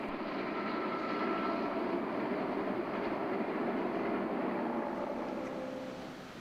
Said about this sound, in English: A goods train is posing on it for the photographers.